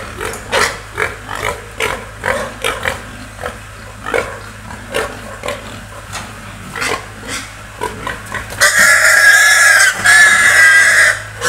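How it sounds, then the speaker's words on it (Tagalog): Pigs in a pen grunt and oink in short repeated bursts, close and loud, swelling into continuous squealing toward the end. "Ayan ang mga baboy ko."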